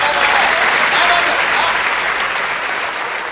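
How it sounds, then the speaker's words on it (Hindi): An audience at a poetry recital applauds, a dense, sustained wash of clapping that holds steady and eases slightly toward the end. "अच्छा लग रहा है तो तालियों के साथ बताते रहिए"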